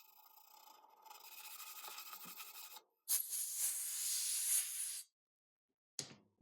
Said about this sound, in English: So first I'm going to sand that with some 220.